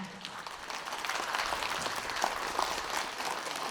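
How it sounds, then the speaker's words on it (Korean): Audience applause at an integrity award ceremony as the award recipients, a school principal and an official, are welcomed onto the stage; steady, moderately distant clapping fills the room throughout without a break. "여러분 큰 박수로 맞이해 주시기 바랍니다"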